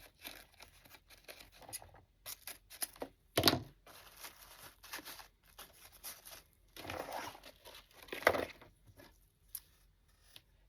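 Shimmery ribbon loops for a Christmas swag rustle and crinkle close by as they are fluffed, with scattered sharp snips and rustling bursts that suggest scissors cutting.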